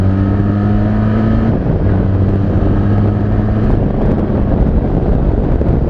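Benelli TRK 502 adventure motorcycle picking up speed, engine drone rising in pitch through the gears, loud and constant with heavy wind rush over the microphone.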